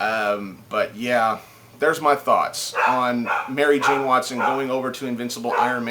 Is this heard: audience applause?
no